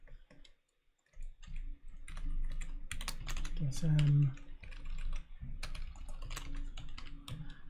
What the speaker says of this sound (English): I'm just watching it as I'm typing,